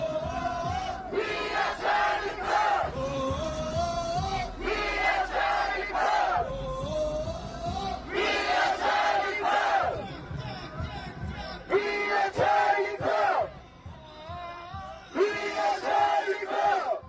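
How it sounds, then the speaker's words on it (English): A large crowd at a street demonstration chants a slogan in unison, loud and rhythmic, in repeated bursts of massed voices with brief lulls between the phrases. "massive demonstrations and crowds chanting, "We are Charlie Kirk.""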